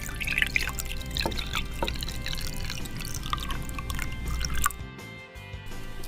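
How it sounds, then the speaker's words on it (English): Hot water pours into a cup in a steady splashing, trickling stream for several seconds, then cuts off, leaving quiet room tone. "we're going to pour some hot water into this cup"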